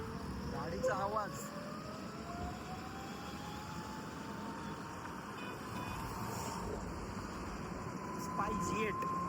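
A SpiceJet airliner passes overhead as a steady, broad engine roar that holds for several seconds at moderate distance, with a faint whine and brief voices in the background.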